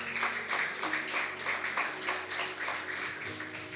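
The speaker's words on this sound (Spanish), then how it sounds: "Vamos a darle un aplauso al Señor por esas personas que han logrado" A church congregation claps in applause during a Sunday school service, a faint, rhythmic patter of hands beating together in a steady pulse with low background hum.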